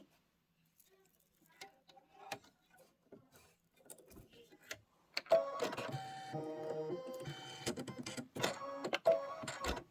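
An embroidery machine stitches a popsicle stick handle in light brown thread, starting with sparse, faint ticks and then settling into a rapid, steady mechanical chatter of needle strokes, close and fairly quiet.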